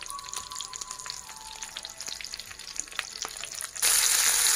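Chicken rolls filled with kashar cheese fry in a pan with close, crackling sizzle and scattered pops, swelling into a louder, denser hiss near the end; no one speaks.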